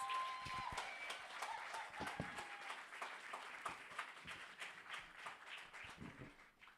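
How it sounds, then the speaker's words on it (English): Faint, distant applause from an audience at the Ake Festival 2023 welcome ceremony, a steady patter of claps lasting several seconds without a break. "Please give her a round of applause."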